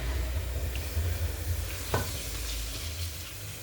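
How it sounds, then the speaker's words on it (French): Ground meat browning gently in a saucepan on the stove for bolognese sauce, a steady soft sizzle with occasional stirring scrapes, close and continuous with no talk. "Puis on y rajoute la viande pour qu'elle revienne tranquillement."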